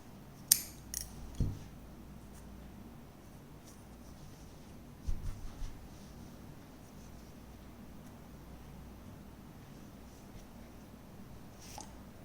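Scissors snipping crochet thread at the end of a round, a few crisp close clicks early and another short cluster midway over a quiet room, with no talking.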